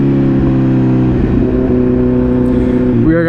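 A 2023 Kawasaki Z900 motorcycle accelerates hard nearby, its engine note climbing steadily through the revs, dipping at a gear change near the end, loud and continuous.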